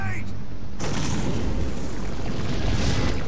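A loud, sustained explosion in the Metal Gear Solid V: The Phantom Pain video game, a heavy booming roar with rumbling debris that fills the whole stretch, following a brief cut-off voice.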